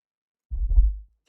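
A single thudding heartbeat sound effect from the video game Fleshware, a short deep double-pulse booming low and close, then silence.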